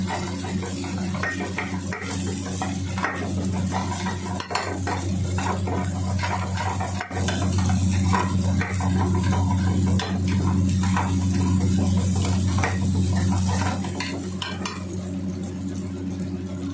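Vegetables are tossed and stirred in a kadai for kadai paneer over a constant low hum of a burner or kitchen fan, with spatula scrapes and metal clinks against the pan and a faint frying hiss throughout.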